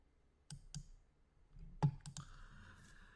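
A computer mouse clicking while working in one-line diagram software: a few sharp, close clicks spaced apart, the last followed by a faint steady hum, with no talking.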